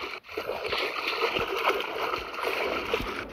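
In a Roblox obby game, swimming through dirty water makes continuous sloshing and splashing at steady moderate loudness, with occasional sharper splashes and faint talk in the background.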